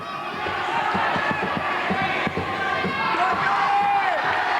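Boxing arena crowd cheering and roaring steadily throughout during a bout, a dense, loud wall of voices with shouts rising over the general din.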